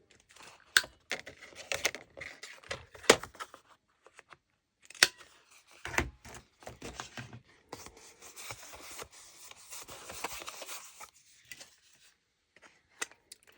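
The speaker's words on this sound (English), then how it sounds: "Go ahead and cut our tag shape up here." Scissors cut a tag shape from paper in short, close snips and rustles, with brief pauses between cuts and no talking.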